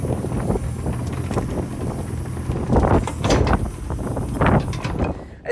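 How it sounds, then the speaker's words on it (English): Gusty wind buffets the microphone in uneven rumbling blasts, rising and falling throughout with no voices. "It's windy."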